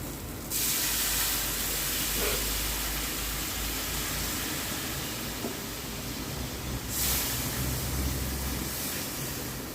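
Water with oil and spices comes to a boil in a pan for a jackfruit and prawn curry, making a constant close bubbling hiss with a couple of brief louder sizzling surges.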